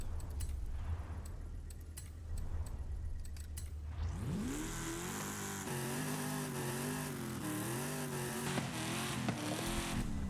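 After a few seconds of quiet clicking, a deep LS V8 engine in a Corvette C4 in Forza roars to life and revs repeatedly, its pitch rising and falling in loud surges.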